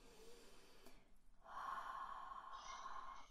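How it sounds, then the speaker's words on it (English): A person takes a deep breath in and lets it out, a short sharp inhale followed by a long, airy exhale, close and soft with no speech. "Take a deep breath in and breathe out."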